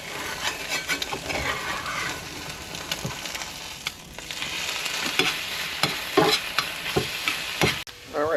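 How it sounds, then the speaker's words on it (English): Egg whites being scrambled in a cast iron pan, a loud close sizzle broken by repeated scraping stirs and spatula knocks against the iron, with no voices. "now we're doing just an egg white scramble because that didn't work good at all"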